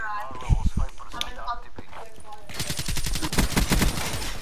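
Suppressed KN-44 assault rifle firing in Black Ops 3, clipped muffled pops starting in short bursts, then a sustained rapid stream of shots over game noise, with voices talking early on.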